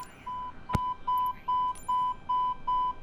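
Cockpit warning alarm in Microsoft Flight Simulator 2020 sounds as a steady string of about seven identical electronic beeps at an even rhythm, loud and close, with one sharp click partway through.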